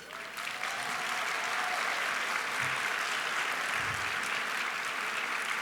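A conference crowd applauds steadily, a dense wash of clapping that swells quickly and holds at an even level throughout.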